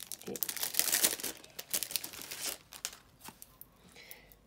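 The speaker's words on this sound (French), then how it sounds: "mais une jolie carte. D'ailleurs, on va l'ouvrir" A handmade paper greeting card with raised 3D foam decoration being handled and opened, crisp crinkling and rustling bursts up close, fading into lighter handling noises toward the end.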